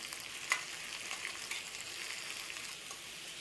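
Carrots and capsicum frying in a pan for rava upma, a faint, steady sizzle and hiss with a single light clink early on.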